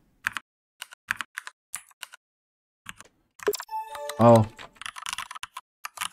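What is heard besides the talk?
simulated mechanical keyboard typing sounds from Mechvibes app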